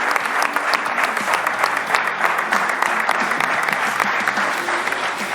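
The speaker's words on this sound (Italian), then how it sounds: "Allora, c'è un applauso a Musetti del tennis." Studio applause for tennis player Musetti on an Italian sports programme: dense, steady clapping from a small group, continuous and fairly close, with no voices over it.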